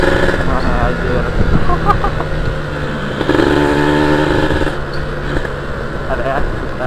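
Close, continuous engine drone from a 2001 Kawasaki Ninja SS 150 motorcycle on a test ride, the revs wavering up and down with a brief surge in the middle, mixed with wind and road noise.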